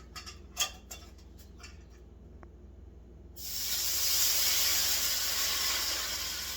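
Steam hisses loudly and steadily from a covered pan of browning kielbasa on a kitchen stove, breaking in abruptly after a few faint ticks and clicks and holding for several seconds.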